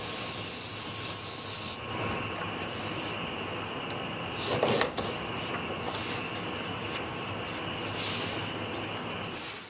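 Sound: spraying clear lacquer from a spray can

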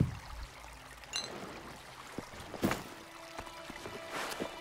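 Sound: flowing water in video game ELEX II

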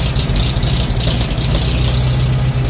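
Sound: 1941 Farmall M tractor engine idling after cold start

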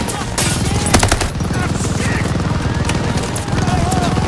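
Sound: gunfire in the video game Call of Duty Vanguard

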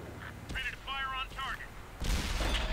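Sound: tank gun shot in video game World of Tanks

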